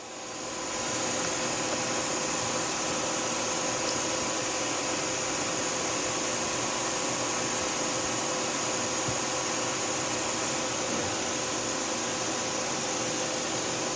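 Tsugami S206 Swiss-type CNC lathe, 2011 model, running its back spindle at around 2,500 RPM: a steady, loud broadband machine whir with a constant high whine, continuous for the whole stretch with no voices.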